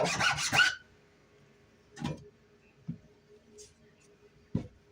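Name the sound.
filing the bottom of an acorn cap bowl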